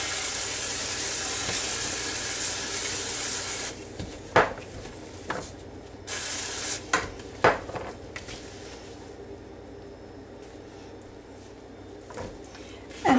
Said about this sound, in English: we're going to spray them with, I have avocado spray today